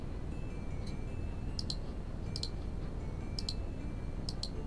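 Keyboard keys clicking in the Cook, Serve, Delicious game, sparse light taps in small clusters over a steady low background noise.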